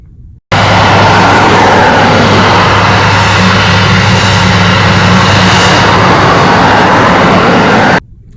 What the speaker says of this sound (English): your device is sounding like a Boeing 747 taxiing to take off